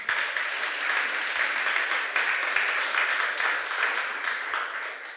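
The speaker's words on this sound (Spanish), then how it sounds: "Fuerte aplauso." Loud, sustained applause from a church congregation during a Spanish-language service, dense steady clapping filling the room for the full stretch with no break.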